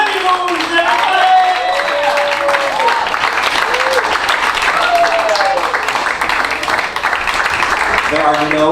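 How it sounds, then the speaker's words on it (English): A comedy club audience in New York claps and cheers for the next stand-up comic, continuous applause with whoops, while a host's voice talks loudly over it. "Start clapping for this next comic."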